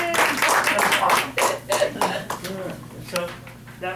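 A class at a power stretching session claps in a dense burst of applause that starts loud and thins out into scattered claps over several seconds.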